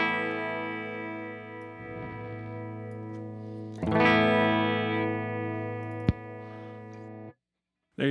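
Electric guitar through a Mark IIC+ preamp simulator plugin: a held, thick distorted chord rings out, is re-struck midway with a brighter crunch, then a sharp click, a fade and a sudden cutoff.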